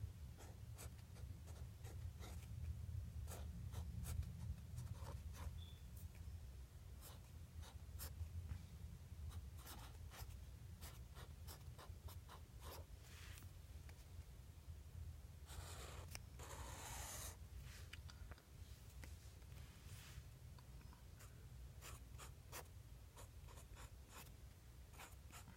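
A pen or pencil writes out a math equation on paper, giving faint, close scratching strokes in irregular bursts over a quiet room hum, with no talk.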